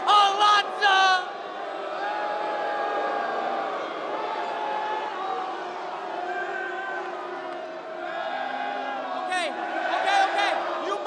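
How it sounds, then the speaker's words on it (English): Large arena crowd at a TNA professional wrestling show roaring and cheering loudly and steadily throughout, with sharper whoops and shouts at the start and end, and some talk underneath. "standing up on your feet, and applauding the most dope professional wrestler that this generation has ever seen, that being Joe Alonzo!"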